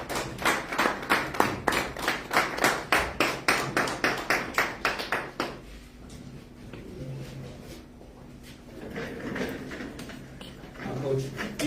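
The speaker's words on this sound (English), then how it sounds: "Can we please give him a round of applause?" Sparse, rhythmic clapping from a small group of media members welcoming the new Mamelodi Sundowns head coach at a press conference: evenly spaced sharp claps for about five seconds, then a quieter lull and talking.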